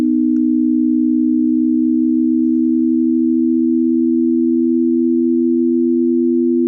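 Two steady pure sine tones held together at low pitch, sounding as one continuous loud hum with slight roughness, unbroken and alone.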